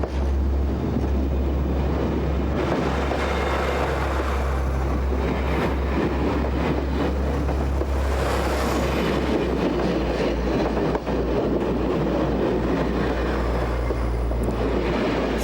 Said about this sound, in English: Today, passengers travel in an aluminum diesel train.